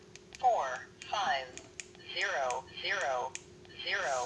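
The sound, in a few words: pressing keypad buttons on Baofeng UV-5R radio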